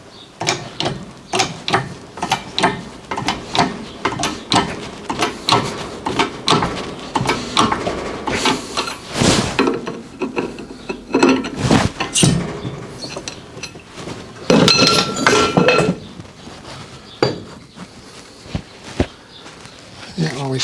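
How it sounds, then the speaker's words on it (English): A new suspension bushing is pressed into an Audi allroad using the old bushing as a driver, producing a close series of sharp ratcheting clicks and creaking mechanical strains that come in uneven bursts. "I'm going to start off with the old bushing to push the new one in."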